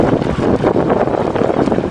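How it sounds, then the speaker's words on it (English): Jib sail on a centreboardless sailing dinghy flapping in the wind, a steady, loud rustling flutter with gusty wind noise on the microphone. "Come on guys, shouldn't have that jib flapping."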